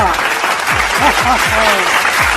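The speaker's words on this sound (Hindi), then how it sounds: "एक बार जोरदार ताली बजावा" Applause from a crowd at a Chhattisgarhi comedy show, steady clapping throughout with loud voices and rising calls mixed in over the top.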